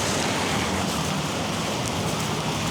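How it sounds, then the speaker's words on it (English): Rain falls steadily on a dreary spring day in Toronto, a loud, even, broadband rush with no voices or breaks. "Oh my God, now it's raining."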